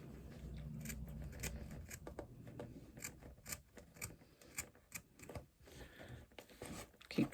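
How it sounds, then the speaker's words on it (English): Repeated short snips of scissors trimming foam for a bag, irregular and close, faint overall, with a low rustle in the first couple of seconds. "keep trimming out the foam"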